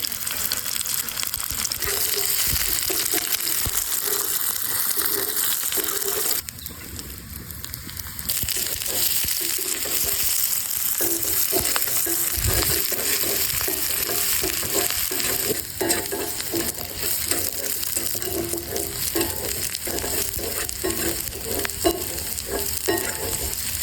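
Chopped onion and chili fry in mustard oil with a steady, close sizzle for over twenty seconds, broken by brief scraping and stirring sounds and no speech.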